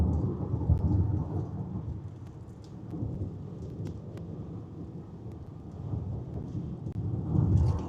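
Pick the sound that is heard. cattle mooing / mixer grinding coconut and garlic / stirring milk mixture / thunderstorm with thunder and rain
thunderstorm with thunder and rain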